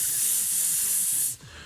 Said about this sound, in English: I am pulling out the can of bitch go away, and I'm spraying hard